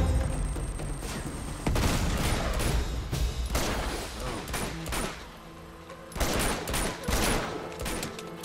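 Rapid AK rifle gunfire in the video game Uncharted 2, loud bursts of automatic shots in close succession with short breaks between volleys, no talk over them.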